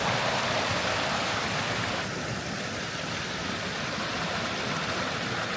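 A stream on the Appalachian Trail in Massachusetts rushes steadily in a close, loud, unbroken wash of flowing water, with no voices.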